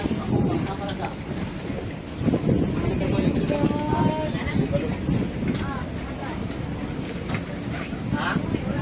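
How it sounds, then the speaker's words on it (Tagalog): Boats on the water during island hopping around Samal, Philippines. A steady rumble of engines and wind runs throughout, with people talking faintly in the background. "Mga bangka."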